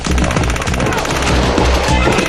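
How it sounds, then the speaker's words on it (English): Assault rifle fire echoing among buildings comes as loud, rapid, continuous automatic bursts with a dense rhythmic pounding and a harsh, reverberant roar. "Just the sheer noise of rounds going off in buildings can be disorienting."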